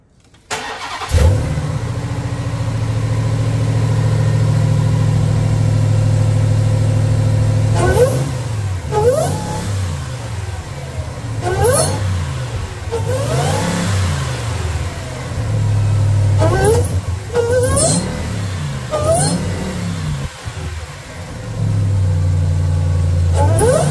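A 2021 Ram TRX with an aFe cold-air intake idles, then revs repeatedly in loud rising bursts with falling returns to a steady rumble, several sharp throttle blips spaced across the span, heard up close with no talking.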